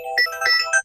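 Alarm ringtone from a Voxione 2 smartphone, a short bright melodic electronic tone pattern of several quick notes, clear and alone for under a second.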